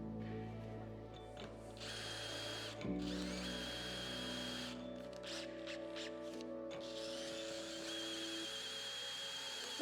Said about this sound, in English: So what we're gonna be using is a step drill bit like that